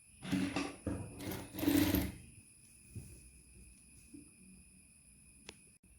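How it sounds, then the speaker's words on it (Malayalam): Sewing machine stitching the sides of churidar pants, a close, fast mechanical chatter in two short bursts lasting about two seconds before fading to quiet handling noise. "രണ്ട് സൈഡും നമുക്ക് ഇതുപോലെ തയ്ച്ചെടുക്കാം."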